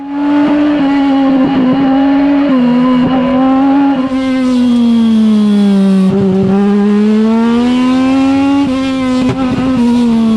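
A small race car drives through a slalom, its loud engine droning close and continuously. The pitch rises and falls with each turn, and no voices are heard.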